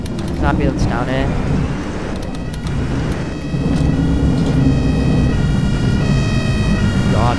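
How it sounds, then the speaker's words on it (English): An ambulance siren wails in a bus driving simulator, with rising and falling tones sounding over the steady engine rumble of the bus and partly mixed with talk. "There's an ambulance down here."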